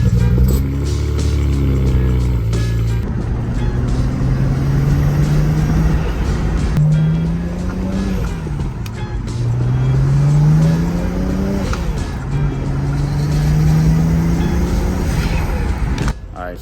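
A BMW 335 pulls away and accelerates through several gears, its engine note rising and falling repeatedly from inside the car, with road and drivetrain noise underneath.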